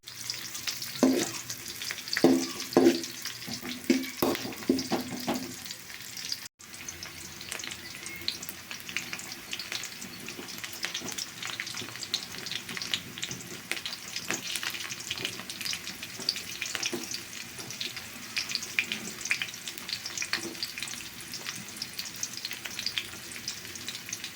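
Fried rice stir-fries in oil in a pan, with a continuous close sizzle and crackle throughout, and a few short scraping stirs near the start.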